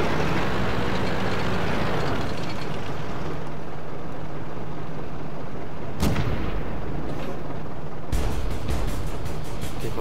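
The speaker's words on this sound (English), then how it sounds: "People are just shooting at nothing." Tank cannon fire from the World of Tanks video game, with a loud continuous battle rumble and two sharp shots, the second near the end, and no talk.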